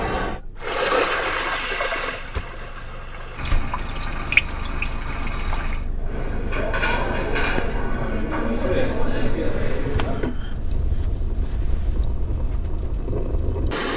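A calm sea waves soundscape plays from the speakers inside a 2020 Hyundai Sonata, a steady washing surf with soft swells rising and falling over a low cabin hum.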